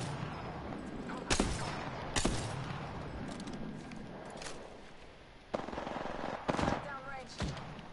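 Gunfire in Apex Legends comes in sharp, loud single shots and short bursts spaced across the scene, over a background of game ambience and muffled player chatter.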